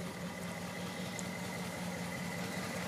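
A 1958 Edsel Pacer V8 engine idling: a steady, even low rumble with a faint pulsing throb, continuous and close throughout.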